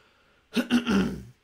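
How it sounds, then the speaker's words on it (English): Someone clears their throat up close, two or three short gruff rasps running together, then quiet. "I'll just take the time to clear my throat."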